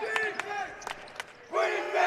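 A crowd at a high school basketball game between George Washington and Woodrow Wilson shouts and cheers in bursts, with a sharp rise near the end and voices mixed in.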